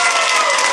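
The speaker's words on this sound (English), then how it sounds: "Clap if you do not have kids." A comedy show crowd breaks into loud clapping and cheering, a thick continuous roar of hands and voices heard up close for a brief moment.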